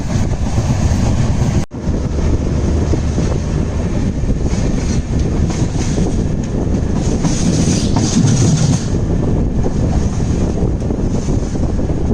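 A Madgaon LTT double decker express train runs at speed, with a loud, constant roar of wheels and wind, faint rhythmic clatter over the rails, and a brief dropout near the start, recorded from on board.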